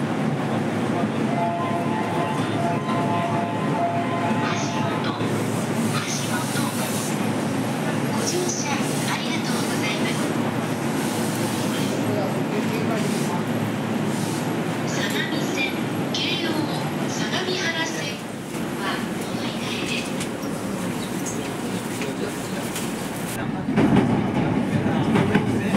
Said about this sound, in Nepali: सो हामी अब ट्रेनमा चढ्दैछौँ